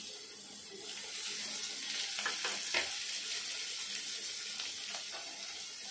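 Chopped tomatoes hit browned onions frying in a pan, raising a steady, close hiss of sizzling with a few brief stirring scrapes over the continuous frying noise, no talking.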